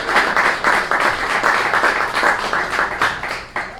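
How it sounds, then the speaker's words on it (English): A magic show audience applauds after a trick, with dense, steady clapping that holds for a few seconds and then starts to thin out near the end. "Give her a round of applause, everybody."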